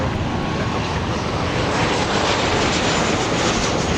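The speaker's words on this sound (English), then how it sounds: "here's inbound WestJet" A WestJet airliner arriving at Los Angeles International Airport roars loud and close, its dense jet noise filling the whole span evenly with a faint rhythmic pulsing.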